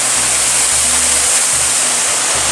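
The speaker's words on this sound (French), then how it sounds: "Regardez-moi cette belle cascade éphémère." A short-lived waterfall swollen by overnight rain roars as a steady, dense hiss of rushing water, close and loud with no voices.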